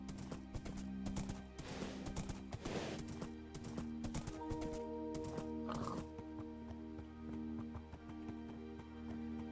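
A horse in Minecraft GregTech New Horizons is ridden along, its hooves clip-clopping in quick, fairly steady steps alongside a few whinny-like calls and a constant hum of game sound.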